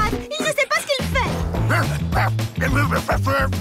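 A cartoon dog barks and yips excitedly in a Lucky Luke–style Dalton brothers episode, the yaps tangled with loud, lively voices and a bouncy musical score throughout.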